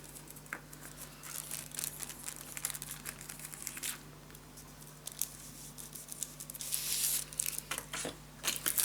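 Paper crafting material for a scrapbook storage tower with mini albums is cut down by hand, giving close, irregular crinkling, rustling and scraping that grows busier and louder toward the end, with no talking.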